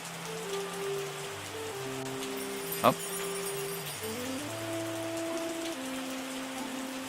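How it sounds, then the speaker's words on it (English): Steady rain patters on surfaces in the wine-making simulation game Terroir. A gentle, even hiss of drops runs under a soft melodic tune, and a brief exclamation is spoken midway. "Ah, there's some rain."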